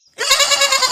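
A single goat bleats loudly and close, one sustained wavering cry lasting under a second after a brief silence.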